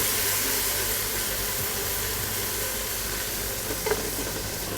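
Diced fresh green chilies fry with whole spices in hot oil for a chicken drumstick curry, giving a dense, continuous hiss that stays loud and even from start to finish.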